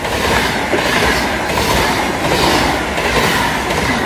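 A Dutch passenger train rushes past close by at Echt in November, a loud continuous roar with rhythmic clickety-clack of wheels over rail joints and a faint metallic squeal, no voices heard.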